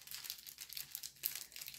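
Plastic packaging of special diamond-painting diamonds is opened with faint, close crinkling and rustling. The sound is quiet but continuous across the short stretch.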